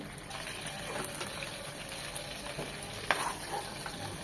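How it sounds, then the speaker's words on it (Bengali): Boal fish frying in a pan, a steady soft sizzle running throughout with a faint sharp crackle near the end; no one talks. "ওই পাশটাও এক মিনিট ভেজে নেব"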